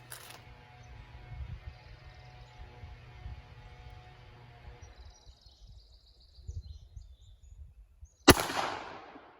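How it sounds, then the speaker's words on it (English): A single loud rifle shot fired at a body armor target on a range, one sharp crack near the end after a quiet stretch of low rumble and faint background noise. "we are shooting our body armor down there"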